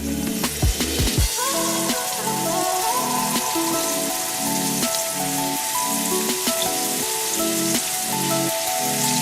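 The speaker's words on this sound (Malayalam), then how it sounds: "ഞാൻ ഈ ചിക്കനിലിട്ട് ഷാലോ ഫ്രൈ ചെയ്യാൻ പോവുകയാണ്." Marinated chicken shallow frying in hot coconut oil in a kadai gives a steady, loud, close sizzle with crackling spatters that runs continuously without any talking.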